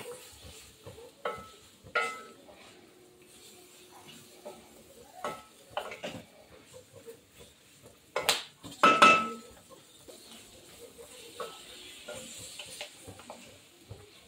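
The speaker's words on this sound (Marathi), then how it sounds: "ही मिरची छान असे मी मसाल्यांमध्ये फ्राय करून घेतलेली आहे, तळून एकजीव करून घेतलेली आहे" Green chillies fry in a spice masala as a spoon stirs, giving soft scrapes and occasional taps against the pan over a faint, steady sizzle.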